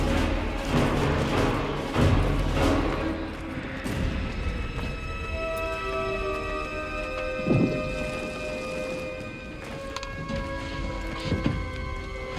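Thunder rumbles and cracks repeatedly through heavy, steady rain during a storm, loud and close, with no voices.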